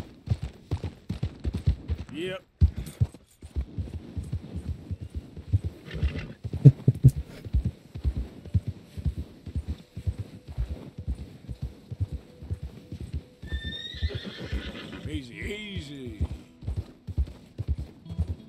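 A horse in Red Dead Redemption 2 gallops with a rapid, continuous drumming of hooves, with a high whinny rising near the end, while people talk over it.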